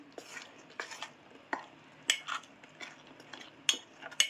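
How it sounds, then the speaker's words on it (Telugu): Smooth batter for motichoor laddu being mixed in a bowl: a series of close, sharp clinks and scraping strokes from a utensil at an uneven rhythm, with no talking. "ఇలాంటి ఉండలు లేకుండా చాలా స్మూత్గా ఈ బ్యాటర్ అనేది మిక్స్ చేసుకుందామండి."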